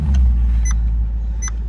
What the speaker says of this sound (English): Let me start this thing up, because who doesn't like the sound of a Ferrari motor?